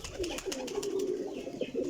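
High-quality white pigeons coo softly nearby, a few low rolling calls repeating over a faint background, no talk during the sounds.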